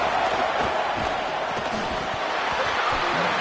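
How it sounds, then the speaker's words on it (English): The Auburn football stadium crowd roars on third down, a dense continuous wash of cheering and shouting that holds steady throughout, with a commentator's voice running over it. "This Auburn crowd trying to conjure up a little magic here on 3rd down"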